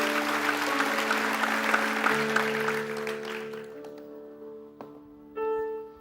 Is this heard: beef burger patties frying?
no